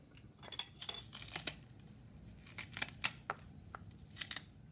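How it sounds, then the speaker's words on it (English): A knife cutting a banana in a home kitchen, ready for Jamaican hominy porridge with peanuts, gives a series of soft, irregular clicks and taps against a board, close and fairly quiet. "I'm gonna cut my banana to put in my pot and to blend with my peanut"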